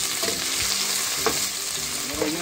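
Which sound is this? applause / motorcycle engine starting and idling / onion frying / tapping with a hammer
onion frying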